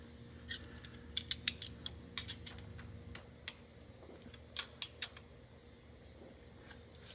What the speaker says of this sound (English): And then you tighten down the jam nuts.